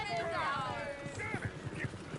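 Horse hooves clip-clopping in the Red Dead Redemption 2 video game, a steady rhythmic clopping under game music and excited talk, moderately close.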